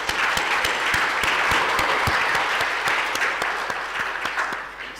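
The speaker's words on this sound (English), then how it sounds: "A big applause for all our presenters." An audience applauds presenters with dense, sustained clapping, while a few louder individual claps stand out near the front and the applause eases off slightly toward the end.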